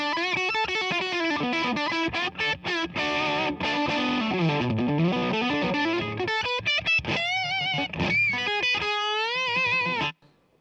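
Electric guitar driven through a Lanh Device HP2 fuzz pedal set to its heaviest gain, played alone as thick, saturated chords and bending sustained notes, loud and continuous before cutting off abruptly near the end.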